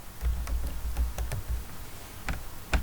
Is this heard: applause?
no